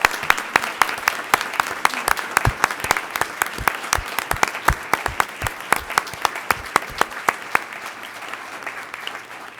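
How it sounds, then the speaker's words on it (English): At a school district board of education meeting, a roomful of people applauds newly appointed team members. The clapping is crisp and scattered but continuous, holding steady for nearly ten seconds with no speech over it. "And let's give them a big round of applause."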